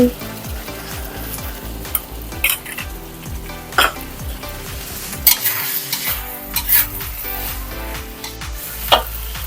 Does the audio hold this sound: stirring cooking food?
yes